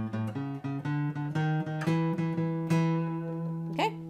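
A blues guitar turnaround lick plays alone, a run of clearly picked single notes stepping along at a steady pace and ending on a final bent or sliding note, close and clean with no talking.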